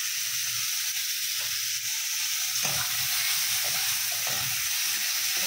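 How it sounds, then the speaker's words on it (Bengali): Bitter gourd coated in turmeric and salt fries in hot oil, giving a constant close sizzle broken by a few soft stirring knocks and scrapes in the second half. "উচ্ছেটাকে একটু ভালো করে লাল লাল করে ভাজতে হবে"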